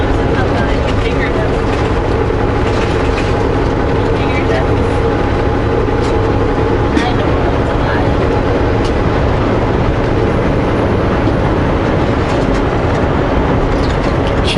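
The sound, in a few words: vehicle rattling and vibrating while driving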